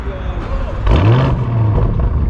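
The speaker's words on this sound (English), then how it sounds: "The exhaust note at startup is actually really nice as well." A Lamborghini Urus engine starts up, a burst of exhaust rising near 0.9 s and settling into a loud, steady idle rumble close by, with a voice talking over it.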